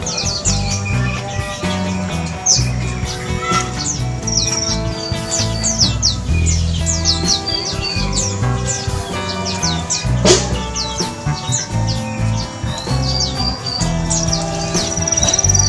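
Repeated bright chirping bird calls ring out over steady background music, sharp and frequent throughout.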